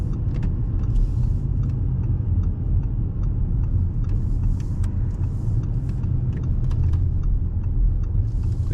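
A 2017 Audi S7 Prestige growls while driving, its engine making a deep steady rumble heard from close inside the car, continuous and fairly loud with no talk.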